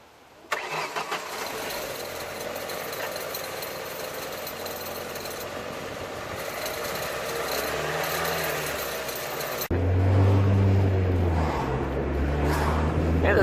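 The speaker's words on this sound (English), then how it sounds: "So, this annoying rattle going on in my car right now" A car engine cranks and catches, then runs steadily with a persistent, buzzy rattle throughout, growing a bit louder and heavier toward the end.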